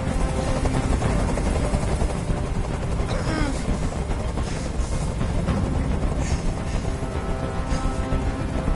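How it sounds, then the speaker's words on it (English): Helicopter hovering in the video game Detroit: Become Human, a loud, steady rotor drone that fills the whole stretch without a break, with faint talk mixed in underneath. "Tell that helicopter to get out of here."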